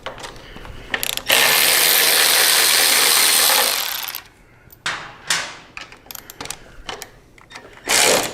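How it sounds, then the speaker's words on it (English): A hand ratchet loosens the bolts on a Harley-Davidson Softail's rear fender. Its close, loud clicking runs fast and continuously for a few seconds, then turns into shorter, separate bursts of ratcheting and metallic clinks. "I'm just going to loosen this one"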